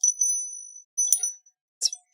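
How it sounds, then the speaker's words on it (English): A small Liberty Bell souvenir bell rung by hand gives three bright, high metallic dings, the first ringing out longest and the last cut short, clear and close in an otherwise quiet room. "Should I ring this little bell at the open?"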